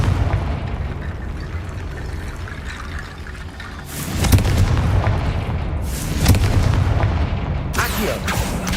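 Explosions from the Confringo blasting spell in Hogwarts Legacy, several booming bursts rising out of a steady rumbling game background, loud and close with no talk over them.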